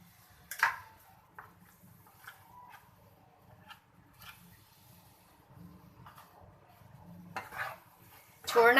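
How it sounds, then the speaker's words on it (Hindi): A spoon scrapes and knocks against a pan while coconut ladoo mixture is stirred, with soft intermittent clinks and a louder metallic clatter at the end over a quiet background. "लेकिन इसको चलाना मुसलसल है।"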